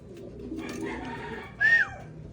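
A pigeon gives a single short, clear coo near the close, preceded by soft low murmuring and faint rustling sounds nearby.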